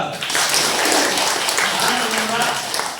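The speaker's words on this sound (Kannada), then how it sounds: "ಚಪ್ಪಾಳೆ ಕೊಡಿ" Audience applause at a Kannada talk on nature and health, a sustained crowd clapping roar for about three seconds, with voices mixed in.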